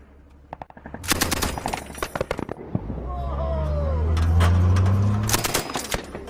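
A commander's machine gun fires during practice with Pathfinders in Afghanistan, loud and close in sharp rapid bursts. A rumbling engine or vehicle swells underneath in the middle.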